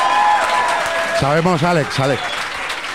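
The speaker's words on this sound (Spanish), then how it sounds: "Un fuerte aplauso" Steady applause from a live comedy show audience continues while someone speaks loudly over it for a moment in Spanish.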